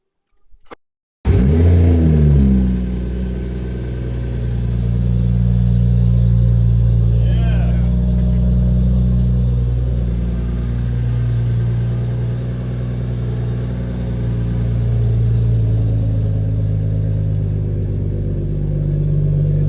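A Toyota Supra engine with a new charge pipe cranks and fires up, then settles into a steady, loud idle with slight rises in revs, while voices talk faintly underneath.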